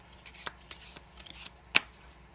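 A deck of playing cards handled in a one-handed swing cut, giving soft close taps and slides followed by one sharp snap of cards near the end, with no voice.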